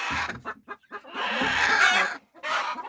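A hen in a backyard flock, kept with younger chicks, cackles loudly in repeated bursts, close by and alone with no talk.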